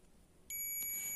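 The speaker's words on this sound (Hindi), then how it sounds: "देखिए बीप की आवाज देता है" A steady high-pitched multimeter continuity beep switches on abruptly while testing a capacitor on a display panel board, holding continuously, loud and close, after a brief quiet moment.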